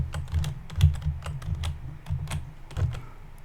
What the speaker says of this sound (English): I'm going to have to type in here the quadratic